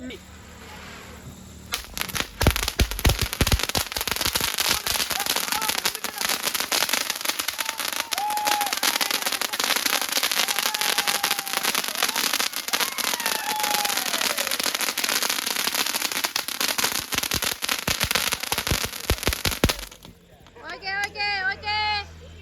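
Diwali firecrackers and fireworks burst in a rapid, dense crackle of sharp pops that runs for most of the span before stopping abruptly, with faint whistling tones weaving through it and a voice near the end.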